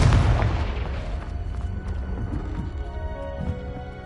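The Confringo fire spell in Hogwarts Legacy lands as a loud boom right at the start and rumbles into a long decaying roar, with softer game noise underneath.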